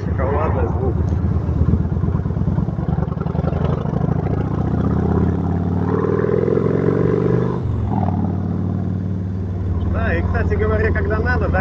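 Yamaha XV 1600 Road Star cruiser motorcycle engine, a deep, steady V-twin rumble rising in a rev near the middle, with someone talking over it throughout.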